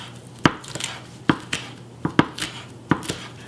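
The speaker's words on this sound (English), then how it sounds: "I'm just giving this a rough chop" A knife roughly chops kale on a cutting board, six or seven sharp, close knocks at an uneven pace with short gaps between them.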